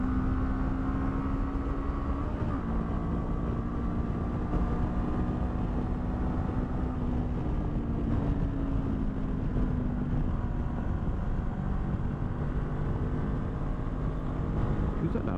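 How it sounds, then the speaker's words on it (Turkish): A Honda NX500 motorcycle accelerates uphill with a steady, droning engine note and a slowly shifting pitch, under heavy wind rush from riding that stays loud throughout. "Yokuş yukarı hızlanmasına bir bakalım."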